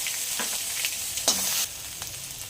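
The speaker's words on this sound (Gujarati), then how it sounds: "તો આપણે એક એક મિનિટ માટે સાતરી લેવાનું છે એકદમ જેથી કચાસ છે ને દૂર થઈ જાય" Spices with ginger, chili and garlic paste sauté in hot oil for samosa filling, giving a soft continuous sizzle with brief crackling bursts and a stirring scrape partway through.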